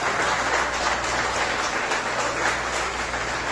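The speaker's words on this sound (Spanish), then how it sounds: "le pido un gran aplauso para él" Steady applause from a crowd at a presidential campaign tour event, a dense wash of clapping that holds at an even level throughout with no voices on top.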